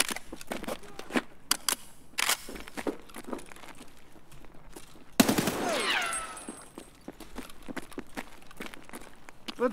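Gunfire in Escape From Tarkov: scattered single shots and short bursts throughout, with a loud close volley around the middle followed by ringing debris, faint talk underneath.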